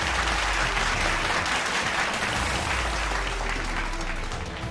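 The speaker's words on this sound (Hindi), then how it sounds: "पीएम के बैठक में पहुंचते ही बीजेपी सांसदों ने खड़े होकर ताली बजाई।" BJP MPs stand and applaud at a parliamentary party meeting, a dense, sustained roomful of clapping throughout with no voices on top.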